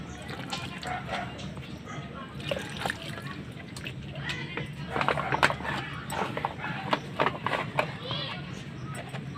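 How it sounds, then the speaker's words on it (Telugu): Water poured from a container onto newly sown cluster bean seeds in a home garden gives irregular splashes and splatters, close by, with a voice talking over them. "కొద్దిగా వాటర్ వేస్తాను"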